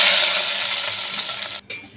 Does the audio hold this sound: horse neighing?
no